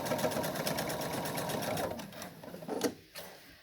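Rapid rhythmic stitching of a sewing machine working on a mask cover, a fast continuous whir for about two seconds that slows into a few short bursts and stops, close and alone.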